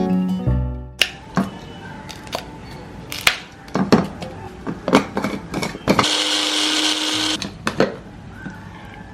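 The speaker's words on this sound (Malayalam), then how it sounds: "അപ്പോൾ ആദ്യം തന്നെ നമുക്ക് ഈ കറിവേപ്പിലയും പച്ചമുളകും ഒന്ന് അരച്ചെടുത്തിട്ട് വരാം." A mixer grinder whirs in a short steady burst while grinding curry leaves and green chilies for a chicken dish, preceded by scattered kitchen clatter, taps and knocks close by.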